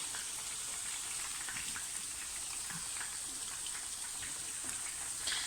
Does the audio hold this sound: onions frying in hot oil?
yes